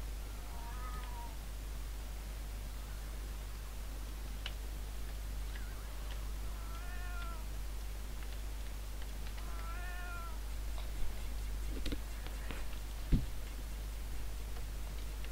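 Cat meows as the Pop Cat meme sound: three short clear meows spaced a few seconds apart over a steady low hum and faint background hiss, followed later by a couple of sharp clicks.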